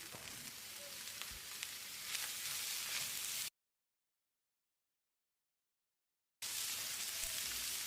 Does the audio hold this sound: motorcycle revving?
no